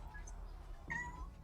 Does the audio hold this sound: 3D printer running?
no